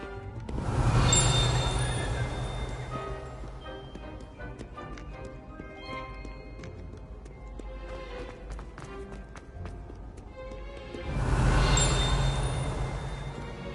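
Horse hooves clip-clop at a steady gallop in the Hogwarts Legacy video game, with louder bursts at the start and end and a continuous rhythmic thudding under game music in between.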